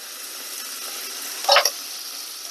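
Tomato sauce in olive oil on a pan, a soft steady sizzle with one short scraping stir stroke in the middle, no talking.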